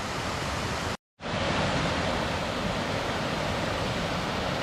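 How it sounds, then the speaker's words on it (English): Creek water at Second Salmon Run near Seward, Alaska rushes in a dense, steady wash with no voices, broken once by a brief dropout to silence before the flow resumes just as strong. "we took a walk back down the road and found this nice creek called Second Salmon Run."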